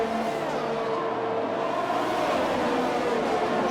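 The safety car in a racing game at the Austrian GP drives through a corner with a steady engine drone and shifting pitch. It is moderately loud, and a faint voice can be heard under it.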